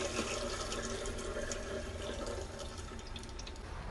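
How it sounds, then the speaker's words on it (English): Water runs steadily from a tap, a soft continuous splashing stream with no voices. "Get Sherpa some water."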